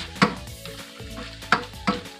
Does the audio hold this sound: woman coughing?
no